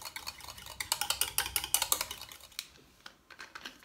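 A spoon briskly stirring a grapefruit essential oil mixture in a small container, rapid rhythmic clinking scrapes for about two and a half seconds, then a few softer taps, close and quiet with no voices.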